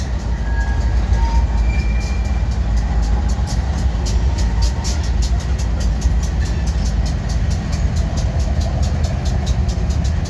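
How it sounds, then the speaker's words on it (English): A train heading into a rail yard in Minneapolis, loud and continuous rumbling with rhythmic clacking of wheels over rail joints throughout, no talk. "And looks like that this train's heading into the yard."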